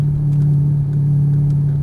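A loud exotic sports car on a track in Mexico holds a steady, close engine drone with a low, continuous growl that stays constant throughout, with no voices.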